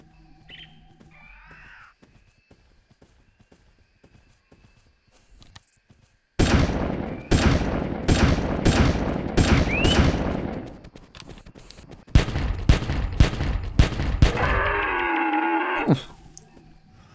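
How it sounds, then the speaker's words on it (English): Pistol gunshots in the hunting video game Carnivores 2+, fired in two rapid volleys of sharp loud cracks, each shot ringing out evenly spaced while a large dinosaur bellows in between. "Took a lot more shots than I was hoping it would, but that is why I did want to bring the pistol with me this time around."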